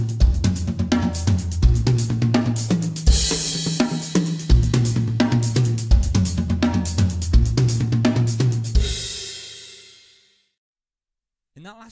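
Faster double paradiddle on a drum kit, rapid sticking moving between snare and the toms with cymbal wash in places, loud and close, then a ringing decay into silence.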